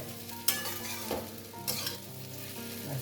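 Sabudana pulao (sago pearl pilaf) is stirred in a non-stick pan, with sizzling frying and a few sharp scraping strokes of the spoon against the pan over a steady hiss; no one speaks.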